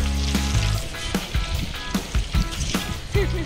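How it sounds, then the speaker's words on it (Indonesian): Hot oil sizzles loudly and steadily while small jemblem cassava dough balls fry in plenty of oil, with occasional pops and clinks over the constant crackle. "Masukkan jemblem ke dalam minyak panas satu persatu."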